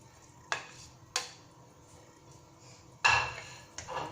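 Okra goes into a pot of soup with a few separate clinks and knocks of a utensil against the metal pot, close and sharp, spaced apart with quiet stirring between them.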